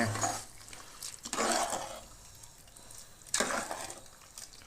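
Rice poured into water in a pot for mushroom biryani and stirred, with splashy swishing bursts between quieter moments while someone talks.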